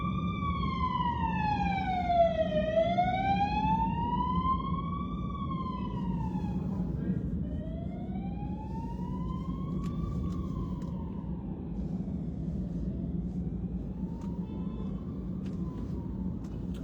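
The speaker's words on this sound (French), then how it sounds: "La sirène vient d'où?" Emergency vehicle siren wailing in slow rising and falling sweeps, fairly close and steady throughout over a low traffic rumble, with no talking.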